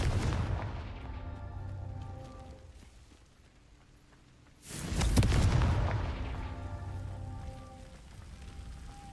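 Confringo fire spell exploding in the Hogwarts Legacy video game: a deep booming blast that rumbles and fades, then after a lull a second, louder explosion hits with a heavy low thud and a long crackling decay.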